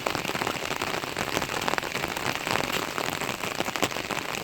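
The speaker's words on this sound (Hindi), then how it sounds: "वो है बारिश।" Dense, steady monsoon rain in a foggy mountain village patters heavily on surfaces nearby, a continuous loud wash of drops with no voices.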